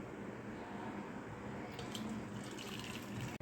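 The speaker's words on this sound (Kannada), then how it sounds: "ಬೆಲ್ಲದಲ್ಲಿ ಏನಾದರೂ ಕಸರಿರುತ್ತೆ ಅಂತ ನಾನು ಸೋಸ್ಕೋತಾ ಇದ್ದೀನಿ." Boiled jaggery water strained into a cooking pot, a soft steady pouring and trickling of liquid at close range, fairly quiet and continuous with a brief cut near the end.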